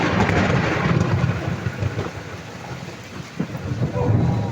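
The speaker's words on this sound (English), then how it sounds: "And then there are the thunders" On a sailboat with a tall mast, thunder rumbles heavily under steady rainfall during a storm, a loud continuous wash of rain and low rolling booms that surge near the start and again near the end.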